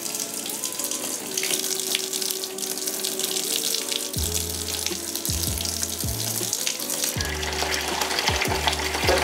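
Water runs steadily from a home tap while being brought to 38 degrees for developing color film, a continuous broadband rush that stays loud and even throughout, with faint clinks partway through.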